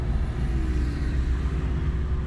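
A Rivian R1S electric SUV in camouflage rolls by on a mountain road, a low steady tire-and-road rumble with a faint whine, fairly close and without voices.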